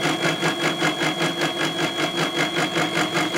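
A machine cuts a keyway into a part for a homemade overhead-valve Briggs engine at low speed without chatter, making a loud, close, steady whirring drone with a fast, even pulsing rhythm and no talking.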